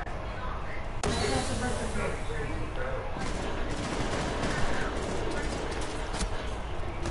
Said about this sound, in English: Bro, who's shooting me?